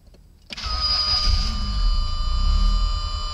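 A 1988 Lotus Esprit engine starts after a brief starter crank, catching abruptly and settling into a steady, close idle with a whining tone riding over the low engine hum.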